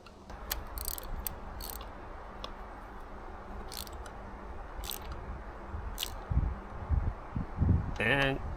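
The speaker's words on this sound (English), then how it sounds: "generally with spark plugs it's tight and then just snug it up with the ratchet" A ratchet snugs spark plugs into an outboard motor, giving a few sharp clicking bursts over steady background noise, with a louder rapid ratchet run near the end.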